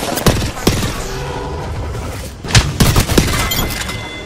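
Sharp, loud charge rifle blasts and bursts of gunfire with glassy crackles ring out in the Apex Legends video game, a few scattered shots at first and then a cluster near the end.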